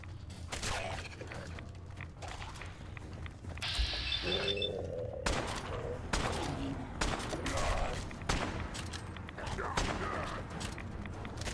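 Gunfire from a modded, realistic Fallout 4 playthrough, with repeated sharp shots and bursts scattered across the scene amid game noise and other effects.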